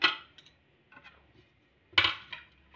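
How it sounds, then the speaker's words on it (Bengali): A lid lifted off a pot of set sweet mishti doi gives a few faint clinks and scrapes, two sharper knocks about two seconds apart with light rattles between, in a quiet kitchen. "ঢাকাটা খুলে নিলাম"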